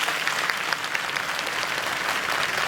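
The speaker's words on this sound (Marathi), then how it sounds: "दोन्ही हात वर करून 14 टाळ्या 10 सेकंद वाजू द्या" A crowd at a Home Minister event in Sindkheda, Dhule claps steadily in dense, sustained applause that is close and even throughout.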